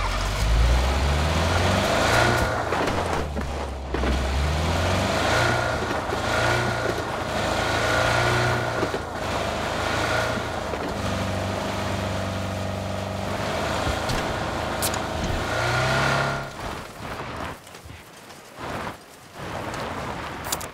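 A car engine in the video game PUBG, a steady low rumble of the vehicle driving with a rain-like hiss and shifting engine pitch, fading out near the end.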